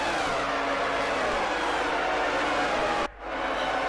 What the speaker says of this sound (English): Just listen to these engines. This is peak F1 engine noises.